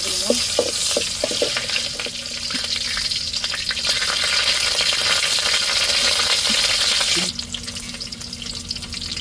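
Onions go into hot oil in a pot for a Tamil fish curry with tapioca, giving a steady, fairly loud sizzle with a few crackling pops that carries on for several seconds, then drops a little softer.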